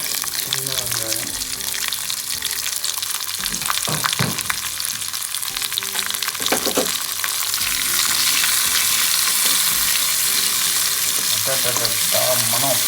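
Small shallots sizzle and fry steadily in a pan of hot oil with cumin, dried chillies and fennel, with a spoon scraping and stirring through them in bursts; the hiss stays loud and continuous throughout.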